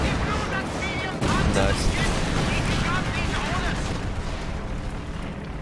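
Tank guns firing at an Su-85 in a video game, heavy booming cannon blasts and rumbling battle noise at close range, with a commentator speaking over them.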